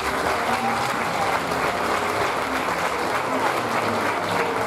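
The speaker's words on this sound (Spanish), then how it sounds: "¡Un fuerte aplauso!" Loud, sustained applause from a theatre audience at a charity event in Teatro Velasco, a thick continuous roar of clapping filling the whole stretch with a faint murmur of voices beneath.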